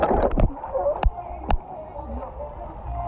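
Water splashes at a water park, with a few sharp splashes and sloshes close by over a busy, murmuring background.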